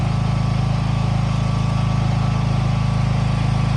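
A generator engine runs steadily on a farm, a loud, constant low droning hum with an even mechanical throb and no breaks or talking throughout.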